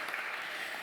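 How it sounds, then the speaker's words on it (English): Brief burst of audience applause for Greg at a recovery event, a dense, even wash of many hands clapping. "So let's give another round of applause for Greg"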